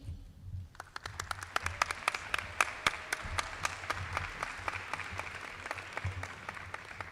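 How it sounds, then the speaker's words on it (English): Steady applause rises after a brief quiet start at a university welcoming torchlight ceremony, with many sharp hand claps continuing at moderate volume to the end. "Let's give Sanskriti a warm round of applause again"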